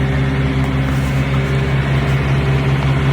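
A semi-truck engine idles steadily, a deep, even diesel rumble with a low hum that holds constant and close throughout, with no talking over it.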